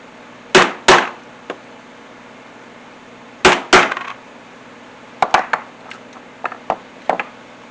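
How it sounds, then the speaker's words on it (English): Holes punched through canvas and leather for a work apron with a hand tool, sharp strikes in pairs and small clusters separated by pauses, crisp and close with faint taps between. "I can go ahead and punch those holes"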